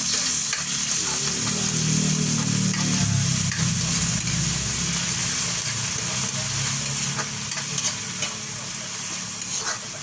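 Papaya and shrimp paste sizzle and fry steadily in a pan while being stirred, a continuous close crackling hiss with scraping movement throughout.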